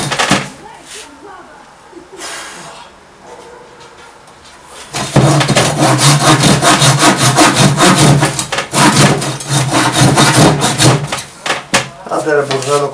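A hand saw rasps through wood in fast, regular back-and-forth strokes, loud and close, after a quieter start with a few scraping sounds, while rebuilding a chair.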